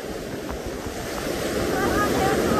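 Ocean surf washes in with a broad, steady hiss that swells slightly louder toward the end, with some wind noise.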